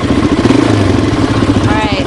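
An ATV engine on a farm revs briefly during a riding lesson, a loud close mid-pitched motor rumble with a pulsing, slightly rising tone near the end.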